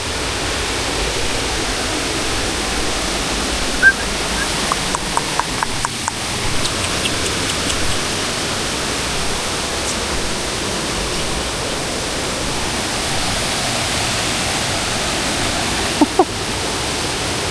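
A river waterfall in Quezon Province roars with a loud, steady, unbroken rush of falling water close by, constant throughout.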